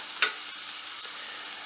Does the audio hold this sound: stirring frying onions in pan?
yes